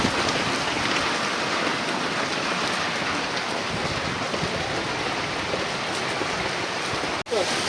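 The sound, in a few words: heavy rain falling in Umrala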